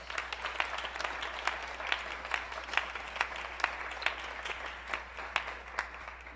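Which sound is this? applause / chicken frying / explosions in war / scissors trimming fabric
applause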